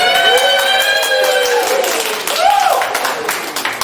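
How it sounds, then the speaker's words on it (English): Crowd applauding at a general election count for the Harrogate and Knaresborough seat, dense continuous clapping with cheers and raised voices, loud and close, with shouts rising above the applause partway through. "I don't know why they're applauding."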